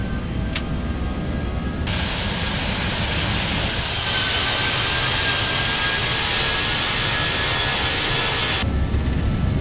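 Jet engines of an Aerosoft Airbus A320 in a flight simulator roar at takeoff, a loud broadband hiss that starts abruptly, holds steady, and then cuts off.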